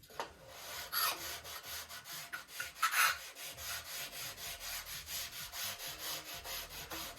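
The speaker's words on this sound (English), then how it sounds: "I'm just giving it a light sanding. Being careful not to dig into the ribs." Light hand sanding along the wooden trailing edge of a Top Flite P-40E Warhawk model wing, working carefully around the ribs; a steady run of soft, rhythmic rasping strokes, close and fairly quiet, with no talk.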